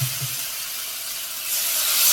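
Water hits a hot pan of fried potatoes, giving a close, steady steamy hiss that swells louder toward the end of the short clip.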